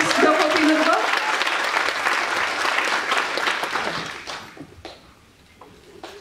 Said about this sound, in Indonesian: kita kasih tepuk tangan dulu dong Mas Jopin.